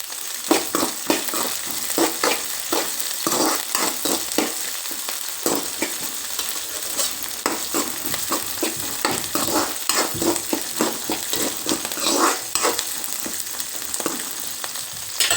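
Green chillies frying in oil with mustard seeds and cumin for a potato palya, a continuous crackling sizzle punctuated by frequent spatula scrapes and taps against the pan, close and steady, no speech.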